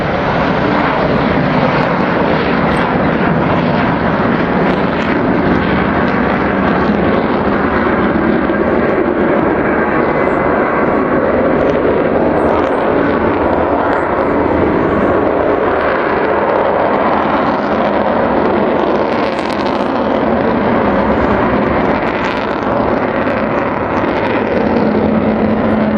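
Avro Vulcan bomber at an air display in Southport, a loud, continuous broadband jet roar holding steady throughout as the aircraft flies past with undercarriage retracting, no voices.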